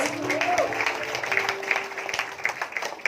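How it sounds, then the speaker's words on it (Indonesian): A church congregation at a youth revival service claps for Jesus, a fairly loud crowd applause with a sustained tone and a short vocal cry near the start. "Yes, tepuk tangan buat Tuhan Yesus"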